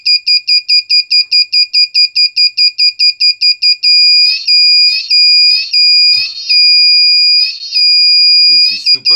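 A one-transistor electronic circuit emits a loud, shrill alarm tone, first as rapid regular beeps, then as a sustained piercing whine broken by short warbling pulses and faint clicks.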